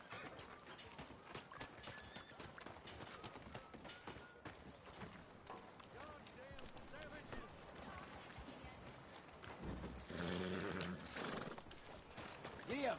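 Horse hooves galloping in Red Dead Redemption 2, a steady rapid clip-clop with a whinny and snorts, a voice urging the horse along over it.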